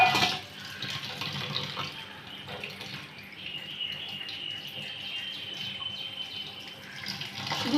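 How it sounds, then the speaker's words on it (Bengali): Tap water runs into a kitchen sink while raw chicken is rinsed under it, a steady splashing flow with small drips and clatter, fairly close and unbroken, without any talk. "চিকেনটা ধুয়ে নিই"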